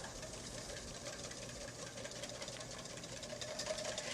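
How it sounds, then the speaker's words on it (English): Six egg yolks are whisked in a bowl for pumpkin ice cream made with stout beer, giving a quiet, rapid, even clatter of the whisk that runs on continuously. "I'm going to take 6 egg yolks. I'm going to whisk them up."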